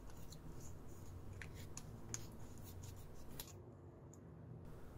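Scissors snip through a used-up toothpaste tube, giving faint, quiet crisp cuts and rustles in a scattered series over a low background hum.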